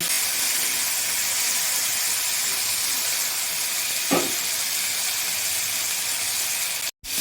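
Tomatoes fry in a pan with black cumin, giving off a steady, bright sizzle that holds evenly throughout, with one brief stir near the middle and a short cut near the end.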